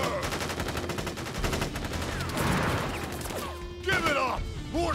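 Soldiers fire a gun volley in the game Crisis Core, with dense rapid gunshots crackling for several seconds amid game music and effects, while voices speak over the action.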